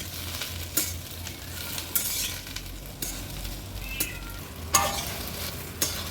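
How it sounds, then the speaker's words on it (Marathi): Okra (bhindi) stir-fried over medium-high flame in a pan on a wood-fired clay stove, with a steady soft sizzle and periodic scraping strokes of a spatula, heard close with no talking. "एक 3 ते 4 मिनिटासाठी मीडियम टू हाय फ्लेमवर ही भेंडी ना अशी आपल्याला परतून घ्यायची आहे।"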